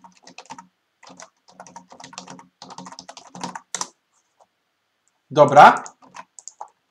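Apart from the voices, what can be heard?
typing a password on a computer keyboard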